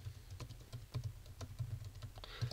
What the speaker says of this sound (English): type this out